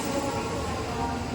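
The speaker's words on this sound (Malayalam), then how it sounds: "ഏതായാലും വളരെ സ്പീഡിൽ ആ ട്രെയിൻ അങ്ങ് പോവുകയും ചെയ്തു" Shinkansen bullet train with engines at both ends rushing past at high speed in Japan, a loud, steady broadband roar of wheels and rushing air filling the whole moment without a break.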